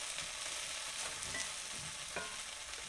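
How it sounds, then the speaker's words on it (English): Hash brown potatoes fry in a pan with a continuous soft sizzle and hiss, broken by a couple of faint scraping turns of a spatula, all fairly quiet and close. "If you see any pieces that are still white looking or raw looking, just flip them."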